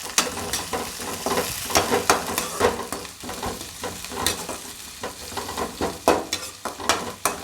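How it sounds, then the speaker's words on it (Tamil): Onions sautéing in a pan for mutton kulambu, a steady sizzle broken by repeated scraping stirs of the spatula at an irregular rhythm, close and fairly loud with no voices. "இப்போ நான் வெங்காயத்தை நல்லா வதக்கிறேன்"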